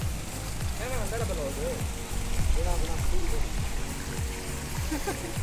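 Stream water flowing over rocks at Saurabh Van Vihar in Palampur, Kangra, Himachal Pradesh, a steady loud rushing and splashing wash that runs throughout, close by, with other low sounds mixed in.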